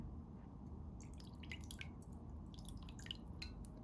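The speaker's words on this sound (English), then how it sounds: "I have a soup bowl in front of me right now with water" Water drips and trickles softly into a soup bowl, a scatter of faint, irregular little drops over a steady low background hiss, with no voices.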